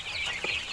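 A tiger-breed chicken in an open poultry shed gives a short, soft cluck, faint and close against a steady high-pitched background hiss, with no talking.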